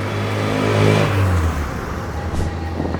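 An MG Comet four-cylinder sports car's deep exhaust drone swells briefly as if revved, then settles into a steady low thrum with faint whirring on top.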